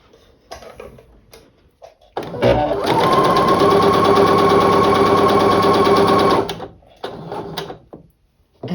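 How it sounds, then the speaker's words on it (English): A sewing machine runs steadily for about four seconds, stitching two fabric squares together with a 1/4 inch seam, loud and close with a whirring motor hum, with quieter handling clicks before and after. "I'm just going to sew them together using a 1/4 inch seam."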